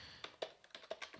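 Several quick, crisp computer keyboard keystrokes tap out in an uneven burst, close and fairly quiet.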